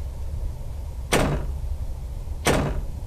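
Two separate door-opening sounds from the horror game Ao Oni, each a crisp click-and-swish about a second and a half apart, heard over a steady low background drone with no voices.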